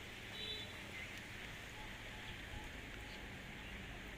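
Rain falls steadily as a storm darkens the sky, giving a constant even hiss of drops at moderate distance that holds without pause.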